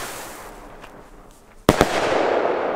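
Fireworks detonate during a New Year's-style pyro session in the Czech Republic: quiet crackling background, then two sharp close bangs followed by a dense, loud crackling shower.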